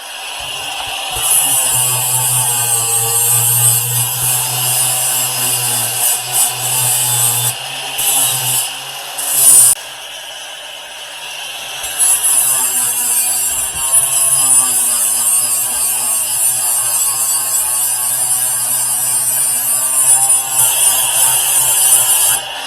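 A power tool grinds rust off the metal edge of an exhaust pipe on a Turbo Thrush before a muffler is welded on, giving a steady, loud abrasive whine with a short break midway, and no talking.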